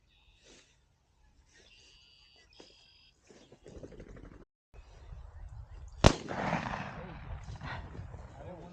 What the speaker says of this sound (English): I missed that shot.